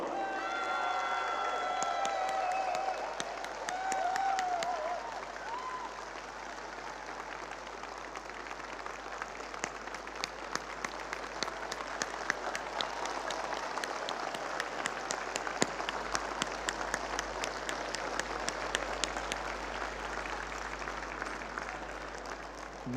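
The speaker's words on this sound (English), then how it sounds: "This applause is for you people." An event audience applauds in a long, sustained patter of many hands clapping, steady and fairly even, with faint voices mixed in early on.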